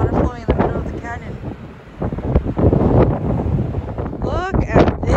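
Strong wind gusting through a canyon with water flowing below, buffeting the microphone in loud rushing bursts while a person talks over it.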